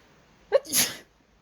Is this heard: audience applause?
no